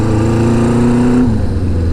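A Honda CB550 motorcycle engine drones steadily nearby during a brake test ride, its pitch holding then dropping as the bike slows.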